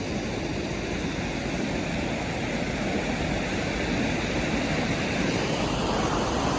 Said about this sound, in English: that's a lot of water pouring on it. A lot of water running over.